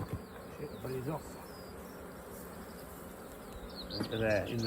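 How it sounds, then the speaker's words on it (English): Honey bees buzzing steadily as they are shaken off comb frames while a hive is split, a close, continuous insect drone with brief voices and handling noises near the start and end. "shake the bees off."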